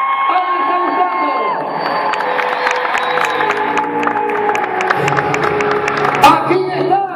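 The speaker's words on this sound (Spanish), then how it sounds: "¡Bien fuerte los aplausos!" Crowd cheering, whooping and clapping at the closing of a school physical education show, children's voices shouting over music-like tones, with an announcer talking over the noise.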